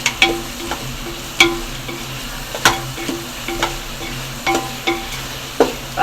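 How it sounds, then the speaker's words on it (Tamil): Ginger and garlic sautéing in a pan for pulao, a continuous close sizzle with repeated scraping strokes of a spoon stirring every half second or so, fairly loud and without talk. "இஞ்சி பூண்டு நல்லா பச்சை வாடை போடுற அளவுக்கு வதக்கிடுவோம்"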